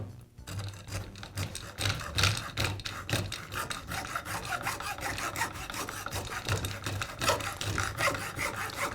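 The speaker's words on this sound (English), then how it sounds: "Now I'm going to use a hacksaw to cut through the top of the cap" A hacksaw cuts through the top of a seized plastic bump feed cap on a Bolens string trimmer, giving rapid, rhythmic rasping strokes, close and steady, with no talking.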